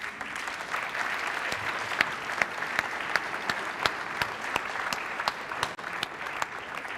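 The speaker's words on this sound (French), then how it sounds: "Nous pouvons l'applaudir." A school award ceremony audience applauds a prize winner, sustained crowd clapping that fills the room evenly, with a few sharper individual claps standing out over the steady wash.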